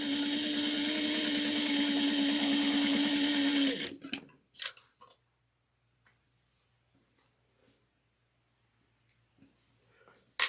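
A sewing machine runs a decorative stitch on polka dot quilting fabric for about four seconds, a steady close whirring hum with fast ticking, then stops, leaving near silence with scattered small handling clicks.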